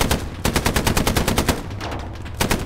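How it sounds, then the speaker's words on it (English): Long rapid bursts from a tank's machine gun in a Sherman tank game, loud and close, with evenly spaced shots in quick rhythm, a brief lull, then more fire. "I'm trying to hold them back with the machine gun"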